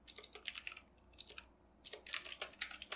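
Typing on a computer keyboard while writing Lua code: quick bursts of crisp, close key clicks in irregular runs with short pauses, nothing else audible.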